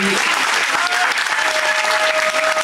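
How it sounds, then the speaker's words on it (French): A crowd applauds a second-place team from Bergerac at an awards podium, steady full clapping throughout with faint voices and a whistle-like tone underneath. "peut les applaudir."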